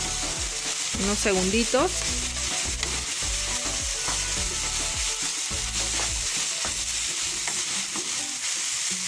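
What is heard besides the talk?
ground beef with pepper and cumin frying, being stirred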